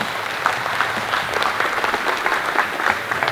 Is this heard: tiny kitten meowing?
no